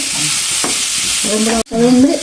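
Chopped tomatoes sizzle and are stirred in a hot pan, a loud close hissing fry with scraping strokes and a brief break near the end before the sizzle resumes.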